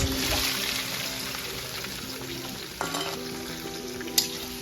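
Onions dropped into hot oil already holding whole garam masala for a rooftop picnic meat dish fry with a loud, steady sizzle close by, joined by a couple of sharp stirring clinks near the end.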